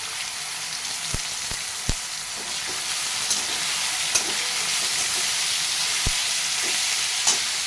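Chilli, tomato, onion, potato and garlic paste frying in oil, a loud continuous close hiss and sizzle with scattered sharp clicks from a stirring spoon, and no talking.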